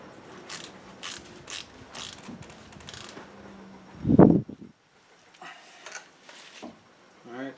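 A ratchet tightens a brake component on a 2004 GMC Sierra 1500, giving a series of quick clicking pawl strokes, close and moderate, with clanks of tools nearby.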